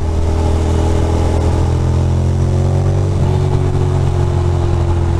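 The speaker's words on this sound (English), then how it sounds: "Can't even tell what kind of bike it is." A motorcycle on a Brooklyn road near the BQE on a grey winter day, heard as a loud close engine drone with shifting pitch as it runs alongside, steady road and traffic noise underneath, no talking.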